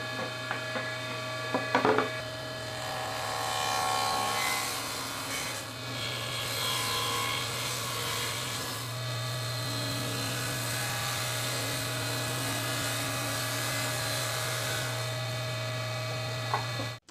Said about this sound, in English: So I need to cut the top off, and then I need to cut the top itself in half.